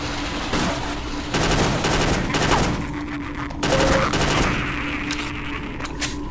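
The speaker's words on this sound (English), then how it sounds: "it's kind of more like a ghetto SMG with this little burst fire mode" Repeated short bursts of SMG fire in Half-Life: Delta Particles, several quick volleys of rapid shots separated by brief pauses, loud and close.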